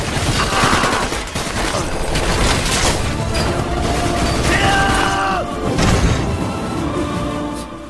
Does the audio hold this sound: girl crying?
no